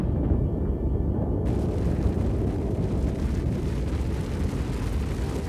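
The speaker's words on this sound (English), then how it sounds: "The huge explosion drew people out into the streets." Vesuvius erupting: a deep, sustained roaring rumble of a volcanic explosion, loud and continuous throughout with no pauses or voices.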